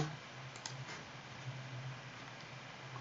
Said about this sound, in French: J'appuie sur Enter.